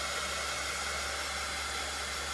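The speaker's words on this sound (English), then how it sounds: "I'm just going to grab my heat tool" A heat tool blows hot air to dry craft paint on a Dollar Tree pumpkin, a steady, close whooshing hum with a low motor drone, loud and unbroken, with no talk.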